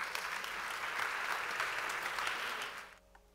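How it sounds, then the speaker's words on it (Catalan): An audience at a theatre season presentation gala gives a strong round of applause for a singer, a dense burst of clapping that holds steady for nearly three seconds, then quickly fades out. "Endavant, un fort aplaudiment."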